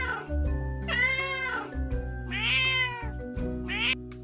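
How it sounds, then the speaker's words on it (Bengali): A cat meows loudly outdoors, three drawn-out, rising-and-falling calls close by over a steady low background hum, with no talking. "একটা বিড়াল বাইরে ডাকাডাকি করছে জোরে জোরে"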